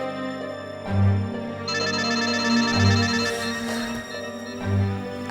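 A telephone rings with a melodic electronic ringtone, its tune repeating in steady cycles, fairly close and clear with no talk over it.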